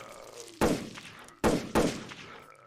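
Gunfire in a horror audio drama: three loud, close shots with sharp attacks, the first alone and the last two in a quick pair, each decaying into a booming tail over a low background rumble.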